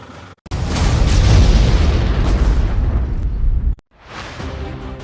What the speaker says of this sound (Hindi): मिसाइल धमाके के साथ टकराई और सब कुछ बर्बाद कर दिया।